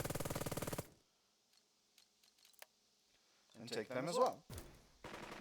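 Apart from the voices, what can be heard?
machine gun firing in video game Burden of Command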